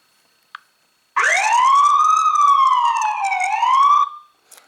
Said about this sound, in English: So let me sound the siren real quick.